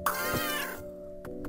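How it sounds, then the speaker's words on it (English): A cat in a free Steam platform game gives one clear, drawn-out meow, followed by a couple of short clicks from the game. "I got a kitty."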